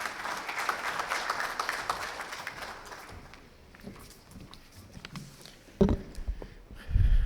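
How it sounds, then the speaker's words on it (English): A convention audience at a Pakistani management leadership session gives a round of applause for an introduced speaker. Dense clapping is loud at first, then fades out, leaving scattered footsteps, shuffles and a few knocks. "Please give a big round of applause for"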